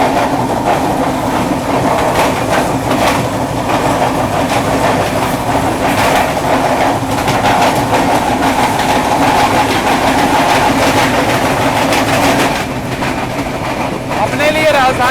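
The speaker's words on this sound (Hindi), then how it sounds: "अभी देखो बगल से क्रॉस हो रही है इंडियन रेलवे की लॉन्गेस्ट रनिंग राजधानी त्रिवेंद्रम राजधानी एक्सप्रेस" The Trivandrum Rajdhani Express, Indian Railways' longest-running Rajdhani, passes alongside a moving train, giving a loud continuous rumble with rhythmic wheel clatter, while a voice talks over it.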